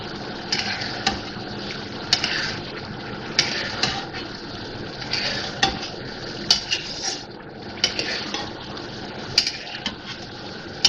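A utensil scrapes and clinks against a pot as cream is stirred into mutton makhni karahi, a run of repeated metallic taps over a soft background hiss.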